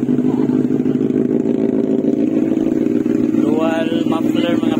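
Benelli 600i four-cylinder motorcycle with dual muffler exhaust idling loud and close, a dense steady engine rumble throughout, with someone talking over it briefly near the end.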